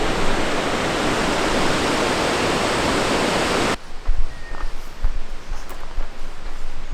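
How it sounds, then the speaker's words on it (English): A waterfall in the center of Travnik town roars as a dense, steady rush of falling water for several seconds, then cuts off abruptly to quieter outdoor ambience with faint bumps and handling noise. "the town is basically famous for the waterfalls being right in the center of town"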